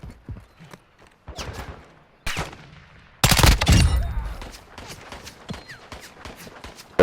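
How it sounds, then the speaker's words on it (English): Scattered gunshots in Call of Duty crack in the distance, followed by a louder burst of rapid fire and lingering echoes. "I can hear the gunfire."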